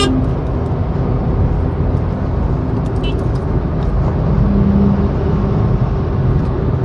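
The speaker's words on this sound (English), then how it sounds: "Now I'm in a 4th gear of speed of 60 km/h. So let's see. Let me increase the speed now" A Honda Jazz ZX 2020 accelerating in fourth gear from around 60 km/h: a steady interior engine drone with road and tyre roar, loud and continuous throughout.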